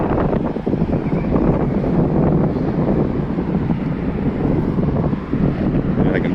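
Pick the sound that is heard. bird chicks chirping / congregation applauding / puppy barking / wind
wind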